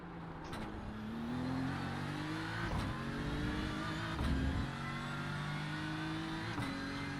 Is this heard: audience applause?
no